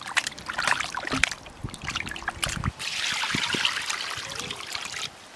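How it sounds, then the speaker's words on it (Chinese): Cut mutton pieces being washed in water in a home kitchen, with close sloshing, trickling and splashing that pauses briefly and then resumes as a steadier rush of water. "切好的羊肉倒上水往进洗一下，羊肉多洗几遍。"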